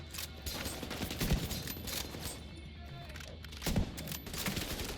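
Gunfire during a sniper fight in The Division 2: two sharp shots ring out, a second or so apart, over a steady bed of game ambience and low rumble.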